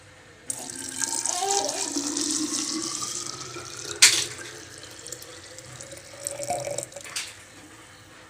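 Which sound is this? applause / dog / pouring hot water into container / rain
pouring hot water into container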